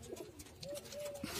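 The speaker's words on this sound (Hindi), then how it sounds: "कबूतर बहुत प्यारे प्यारे कबूतर है।" Pigeons kept by a village farmer make soft, low cooing calls, a few drawn-out tones rising over quiet outdoor background.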